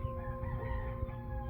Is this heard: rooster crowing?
yes